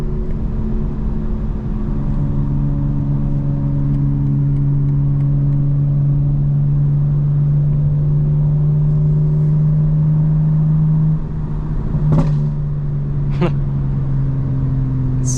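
A BMW M4 Competition xDrive accelerating, its exhaust giving a steady, loud engine drone from the cabin. The note rises gradually, and a couple of brief crackles sound near the end.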